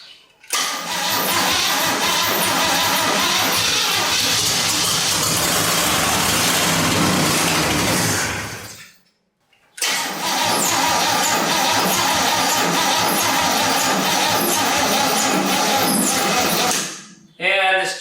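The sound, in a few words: swap meet engine idling in 1967 Chevy C10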